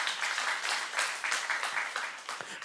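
A church youth congregation claps together in a steady, rhythmic burst of applause, moderately loud and filling the room, with no speech over it.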